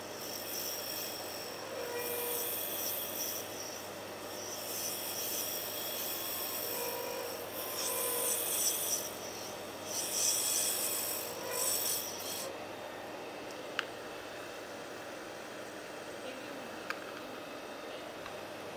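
A lathe turning a rollerball pen section, giving a steady close rubbing, scraping hiss with a continuous motor hum and a few brief clicks, fading quieter near the end.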